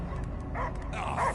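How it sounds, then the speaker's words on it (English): Dog barking and yipping in the Guardians of the Galaxy video game, a few quick close barks with a whimpering tone, standing alone without talk. "I hear only barking."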